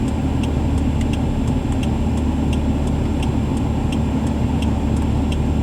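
A 1990 Toyota Corolla's engine runs at a steady hum while driving, with a constant low drone and regular ticking clicks above it, no talking.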